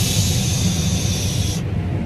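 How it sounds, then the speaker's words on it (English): Combine harvester corn head picking 270-bushel Pioneer corn in the field, a steady loud broadband roar and hiss of running machinery, continuous and close throughout with no pauses. "That's the sound of a cornhead."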